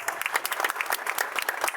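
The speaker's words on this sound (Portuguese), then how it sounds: "receba o aplauso de todos" An audience claps for Cafu at a Walk of Fame ceremony, dense rapid applause with sharp individual claps, fairly close and continuous.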